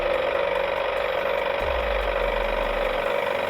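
Cartoon tractor driving along a forest road: a steady mechanical engine chug with a ratcheting rattle, joined partway through by a deeper low rumble that holds to the end, close and continuous.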